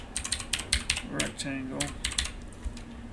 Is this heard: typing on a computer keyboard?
yes